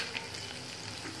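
Masala idli tempering fries in a pan, a steady soft sizzle with faint crackle running throughout, close and fairly quiet, no voices.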